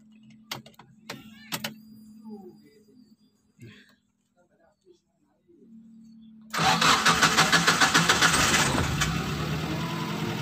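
Fuel-injected Suzuki Futura with a hard-starting fault and a long crank: a few clicks and quiet pauses, then the starter cranks and the engine catches into a loud, rough, pulsing run.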